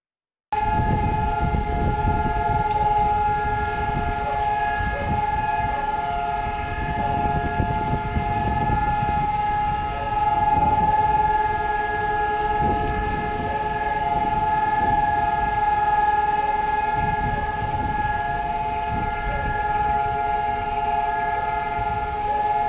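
A long, loud memorial siren wails without a break across Rabin Square in Tel Aviv, steady for over twenty seconds against faint outdoor ambience, with no voices.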